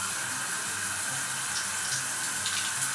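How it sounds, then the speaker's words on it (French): A small outdoor shower runs with a steady, even stream of water splashing continuously and fairly loudly throughout, with no one speaking. "voyons voir ce que ça donne cette petite douche"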